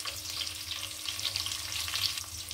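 Koi fish frying in hot oil with turmeric gives off a steady, close crackling sizzle with small popping bursts, unbroken and without any talk.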